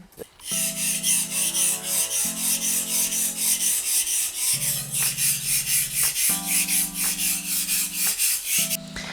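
A chef's knife (gyuto) is sharpened on a wet soft whetstone in quick, rhythmic back-and-forth strokes. It makes a steady scraping rasp, close and clear, with about two strokes per second and brief pauses between sets.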